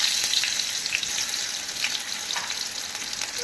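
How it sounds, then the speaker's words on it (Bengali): Chopped onion dropped into hot oil after whole garam masala, giving a steady, close hissing sizzle that holds level throughout with no talking. "এবার পেঁয়াজ কুচি দিয়ে দিচ্ছি।"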